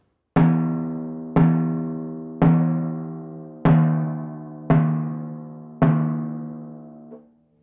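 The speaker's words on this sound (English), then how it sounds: "The idea being that it's a drier sound and it's a smaller sound and just a different sound." Baroque timpani with a drier, smaller sound, struck six times at a steady, even pace. Each close hit rings briefly with a clear pitch and decays before the next stroke.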